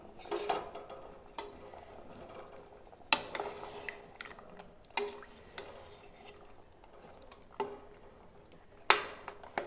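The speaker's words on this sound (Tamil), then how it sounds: "இதை கலந்து விட்டுறலாம் நல்லா." Coconut and onion paste is stirred into duck curry in a pot: a string of close scraping and rubbing strokes against the pot, with a few sharper clinks, and no talking.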